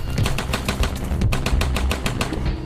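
Rapid automatic gunfire rattles loud and close in an even stream of sharp bursts, fired on command during a night operation in a Tamil TV horror serial.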